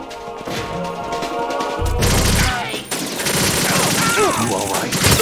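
Gunfire from American weapons in the Metal Gear Solid 2 ending fight against Solidus Snake, loud and dense, with game music and effects underneath and bursts crowding the whole stretch.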